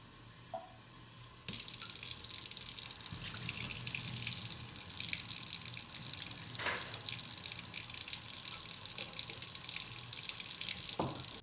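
Tap water gushes steadily into a jar of alfalfa sprouts for a rinse, starting after a brief quiet moment and running continuously at close range with small splashes and sloshes.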